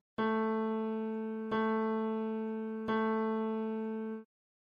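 Three repeated struck notes of the musical pitch A, each a clear harmonic tone that decays slowly, played one after another in a hearing test with no talking.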